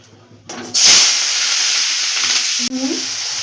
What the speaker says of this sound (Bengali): এবার এগুলোকে আমি তেলের মধ্যে ভেজে নেব